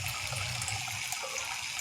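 Water running steadily through a small homemade decorative fountain, a constant close trickle and splash with no pauses, heard alone.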